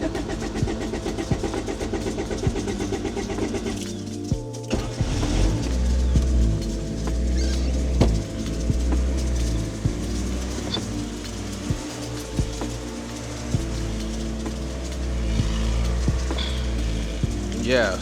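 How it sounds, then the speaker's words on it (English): Cheap Honda hatchback cold start: starter cranks briefly, then the engine catches and settles into a loud, steady, slightly uneven idle with repeated small ticks, close up and with no talking. "Let me give you guys a cold start right quick so y'all can hear the engine and how it started up."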